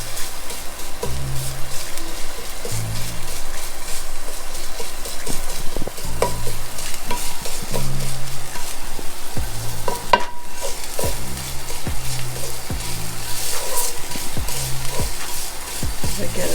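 Mashed garlic sautéing in a pan for oong choy, a constant loud sizzle with repeated spatula scrapes and taps in an irregular rhythm, close, with faint tonal sounds in the background.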